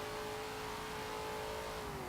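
A 1970 Plymouth Hemi Cuda convertible's muscle-car engine drones steadily under speed in Forza Motorsport 7, a continuous mid-pitched tone that dips slightly at the end, with no voices.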